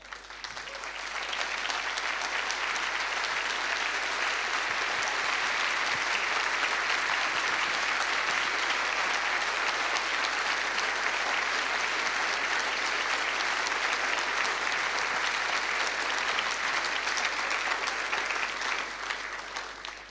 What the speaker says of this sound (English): And I would like you to stand and applaud both speakers in acclamation as we thank them.